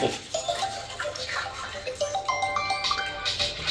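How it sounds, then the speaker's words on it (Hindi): Homemade jaggery decoction, dissolved in water, is poured out in a steady splashing, gurgling stream at close range, with no talking. "देसी गुड़ को घोल रखा है हमने इसमें पानी में, इसको ऐसे डालेंगे"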